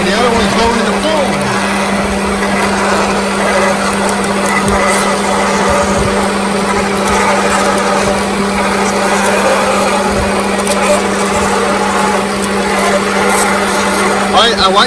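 A gun drill boring a large hole through UHMW plastic, a constant loud whirring grind with a strong steady tone and rough scraping texture, running without break while someone speaks in the background.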